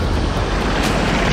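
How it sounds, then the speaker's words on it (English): Surf washing in on a beach around a swimmer in the water, a continuous close rush of breaking waves with some wind buffeting, fairly loud and with no voices. "And there's all these lovely waves coming in on me"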